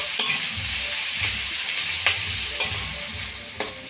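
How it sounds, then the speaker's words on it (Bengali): Onions frying in a pan until reddish for a Bengali fish dish, a steady hissing sizzle punctuated by several sharp spatula scrapes and taps at irregular intervals, with no one speaking. "পেঁয়াজটা একটু লাল লাল ভেজে নেবো"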